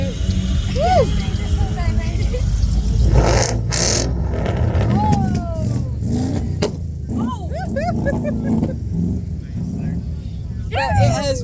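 Cars drive off at an outdoor car show, engines rumbling and revving steadily close by while a crowd talks and cheers over them.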